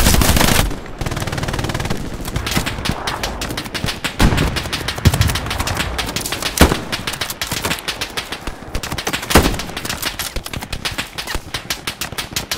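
Sustained machine gun fire in the video game Hell Let Loose, loud rapid bursts hammering almost without pause, mixed with scattered nearby gunshots.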